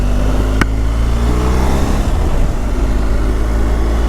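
A BMW R1250GSA motorcycle engine pulls on a winter road, a steady loud drone with a brief sharp transient early on, continuous throughout.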